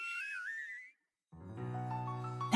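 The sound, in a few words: weird whistling sound in the video game Punishing: Gray Raven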